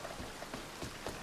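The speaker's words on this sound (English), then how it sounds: "And of course it's raining." Rain patters at Thieves Landing in Red Dead Redemption 2, a constant hiss broken by a few soft, irregular drop taps.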